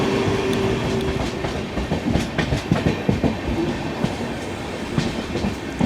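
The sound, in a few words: train hauled by a WAG-12B locomotive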